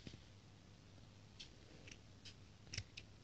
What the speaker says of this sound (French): il faut tout simplement prendre son ciseau, tenir bien au milieu avec sa main et on va tout simplement couper